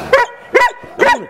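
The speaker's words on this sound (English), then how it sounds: "Enough barking." A Newfoundland dog barks three times in a quick, even rhythm, close and fairly loud.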